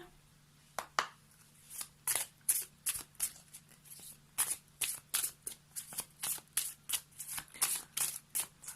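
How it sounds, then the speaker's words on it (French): A deck of oracle cards is shuffled by hand in a steady run of crisp riffling bursts, close and fairly loud, with a faint steady hum underneath and no talking. "Donc on va prendre maintenant une carte du pouvoir du lâcher-prise."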